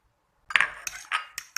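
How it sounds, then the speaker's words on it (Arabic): Eggs and cheese being mixed for a cheese omelette, a utensil clinking against a bowl in a few quick, light strikes after a short silence. "ونخلط البيض والجبن"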